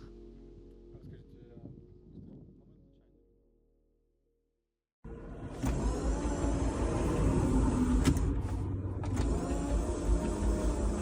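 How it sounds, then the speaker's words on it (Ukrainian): A loud, rough interior rumble from a worn car driving, with rattling and clattering, starting abruptly after a quieter stretch with faint voices. "Це звук болі. Так звучить наш автомобіль"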